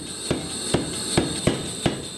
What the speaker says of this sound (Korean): 망치 소리가 굉장히 큰데